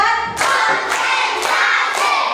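In a classroom, a group of students claps in unison, landing four loud, regular beats roughly half a second apart with voices sounding along beneath them.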